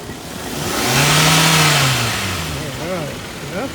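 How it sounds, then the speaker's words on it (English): A car engine gets a punch on the throttle, the revs climbing in a smooth rising and falling sweep, then a few quicker blips as it settles back toward idle, loud and close over faint background noise. "The motor's running nice and smooth. I'll give it a punch on the throttle."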